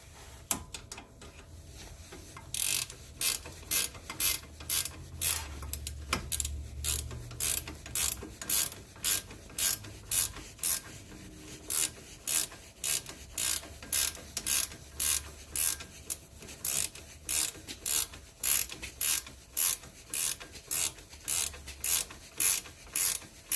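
Ratchet clicking steadily as it tightens the outer tie rod nut on a Ford Escape, a long run of close, evenly spaced sharp clicks with brief pauses, no talking.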